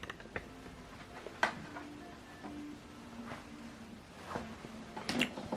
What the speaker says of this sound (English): Okay, so now it's going to prepare the printer.